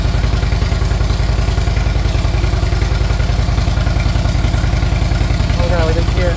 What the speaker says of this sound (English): while the bike is running, it is good to kind of work your way from the headers all the way around